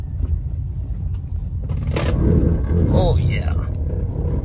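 Lifted first-generation Toyota Tundra making a U-turn, its tires rubbing against the plastic and the cab body mount, giving a low grinding scrape under a steady engine rumble while someone speaks briefly.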